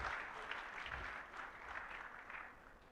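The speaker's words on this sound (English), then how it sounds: "Let's give another round of applause to our chairman." Conference audience at an agricultural research expo in Kenya applauds the chairman, a soft, distant, even wash of clapping from a hall, quiet and continuous with no voices.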